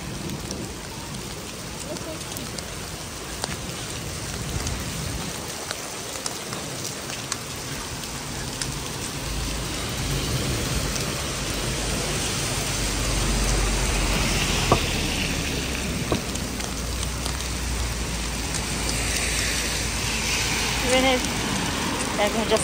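Very heavy rain pours by the Brunnensee lake, a dense, steady hiss of drops on the surface that grows slightly louder over time, with someone speaking now and then over it.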